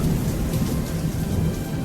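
A thunderstorm with steady, dense rain and a low, continuous rumble of thunder underneath, loud and unbroken, with no voices.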